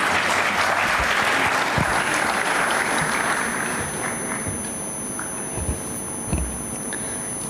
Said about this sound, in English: I request you all to give a big round of applause for Ms. Liddy Jose.